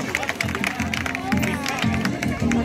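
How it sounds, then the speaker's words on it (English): A rodeo arena crowd claps and cheers as a breakaway roper exits, steady applause under an announcer's amplified voice. "Give that young lady a big round of applause as she exits out of our arena tonight."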